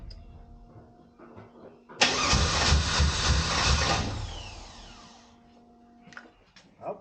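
The fuel pump of a car that is out of gas cuts on with a faint steady electric hum, then a loud burst of engine cranking rises and slowly fades before the hum returns.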